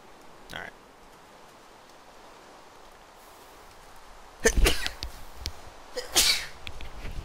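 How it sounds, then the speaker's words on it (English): A person sneezes twice, close and loud: one sharp burst, then a second about two seconds later, over a quiet background with no speech. "I'm just sneezing up a storm here."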